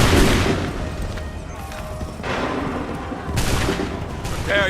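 Musket volleys in Assassin's Creed III crack out as several loud, ragged fusillades of many guns firing together, each followed by a rumbling echo, with a shouted command under the firing.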